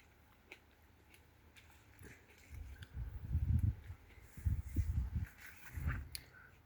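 Close, crunchy bites and chewing of sweet, muscat-flavoured seedless grapes, several juicy crunches in a row after a quiet moment, with no talking.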